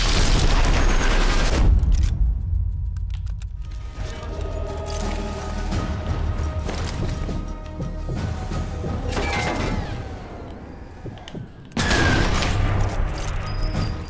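Sniper rifle fire in the World War II shooter Sniper Elite 4, booming loud shots with a dense crashing roar, a heavy burst at the start and another near the end, over a constant battle ambience.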